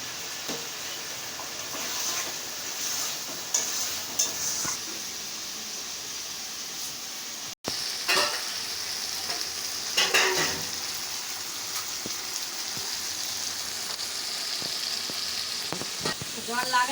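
Lote fish seasoned with salt and turmeric sizzles steadily in a frying pan, a continuous hiss with occasional light clinks of a utensil stirring against the pan.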